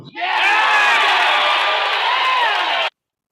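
A political rally crowd roars in reaction to Tony Evers, a loud sustained wave of cheering, whooping and yelling that swells almost instantly, holds for nearly three seconds, then cuts off abruptly.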